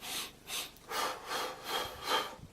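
Heavy, rhythmic breaths through the mouth alternate in and out at an even pace of about one every half second, close and airy with no speech.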